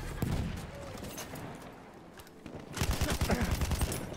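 Rapid gunfire in a Battlefield 1 match, a short burst near the start and then a dense rattling volley in the last second and a half, with game noise between.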